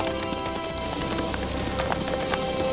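Horse hooves clip-clop at a walk in a steady stream of hard, rhythmic knocks, fairly close and continuous under a dense background wash.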